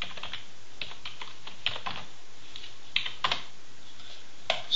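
Typing on a computer keyboard, a close series of irregular key clicks and taps with a few sharper strikes, alone in a quiet room.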